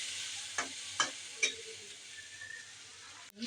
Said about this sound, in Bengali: পেঁয়াজ আর কাঁচামরিচ তেলে ভেজে নিচ্ছি।